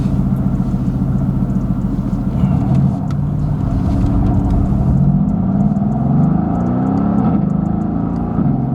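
Mercedes-AMG GT S Edition One rumbling at low revs with a steady exhaust note and shifting engine tone; any pops are faint within the continuous drone, no talking.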